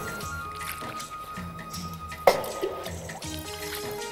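Water is poured into a mixture being mixed, a single sharp splash and squish midway through, with faint music-like tones underneath.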